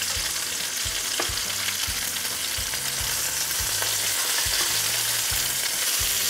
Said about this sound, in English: We got our sage here getting nice and crispy.